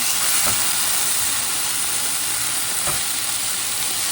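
Pork strips stir-frying in a pan over medium-high heat make a loud, continuous hissing sizzle close by, with a couple of brief stirring knocks.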